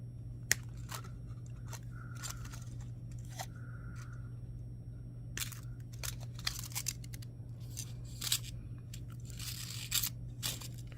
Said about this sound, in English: So let's trim our chain off.